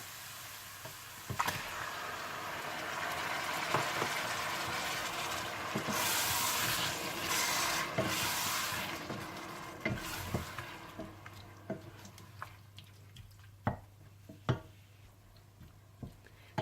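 Tomatoes stirred into browned ginger and garlic sizzle steadily in a pan for aloo palak, with a spoon scraping and clicking in irregular taps over the frying hiss, no voices.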